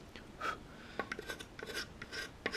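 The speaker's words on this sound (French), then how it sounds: "au lieu de creuser, on va vraiment venir gratter la surface" Fine scraping of a hand-carved wooden spoon's surface to remove small tool marks during finishing, a series of short dry rasping strokes, close and quiet, with no talk.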